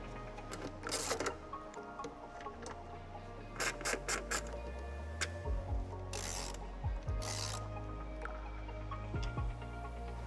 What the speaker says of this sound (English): You can remove these with a 10mm socket.